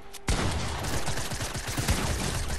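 Gunfire in the Fortnite video game: a loud, sharp opening shot followed by rapid overlapping bursts and individual cracks, dense and continuous throughout.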